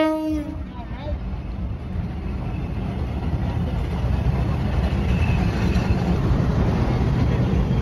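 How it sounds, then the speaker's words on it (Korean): A train horn sounds briefly at the start, followed by a steady, loud rumble of rail cars rolling past near the Bridge on the River Kwai in Kanchanaburi, Thailand, with talk mixed underneath. "놀다 보니까 기차 들어와요."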